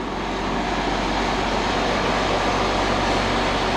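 Runway sweeper truck at an airport apron idles steadily while its engine warms up, a continuous broadband rumble with no breaks, close and fairly loud throughout.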